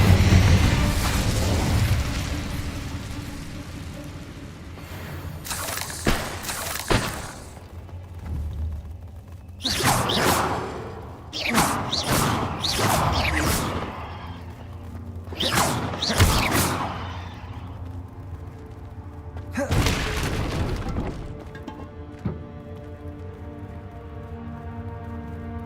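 Incendio fire spells cast in the video game Hogwarts Legacy, several bursting whooshes and booms in separate clusters, some quick pairs, set against a sustained musical background.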